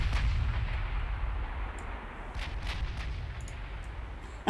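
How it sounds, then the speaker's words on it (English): Naval battleship guns firing in the warship game Ultimate Admiral Dreadnoughts, a dull continuous rumble of distant heavy cannon with several sharper booming shots spaced irregularly, ending in a louder thud; no voices. "Whoa, we're firing already."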